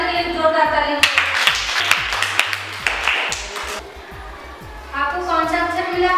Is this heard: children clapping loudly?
yes